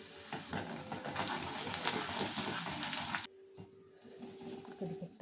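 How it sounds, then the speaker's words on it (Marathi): Curry leaves frying in hot oil while making a roasted puffed rice chivda, a loud crackling sizzle for about three seconds that cuts off abruptly, leaving quieter kitchen noise and a faint hum. "आता तळूयात कढीपत्ता"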